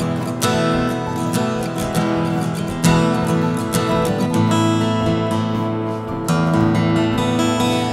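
Gopher Wood K330RCE acoustic-electric guitar with Indian rosewood back and sides, strummed live into a microphone with full, ringing chords sustaining steadily throughout, no voice over it.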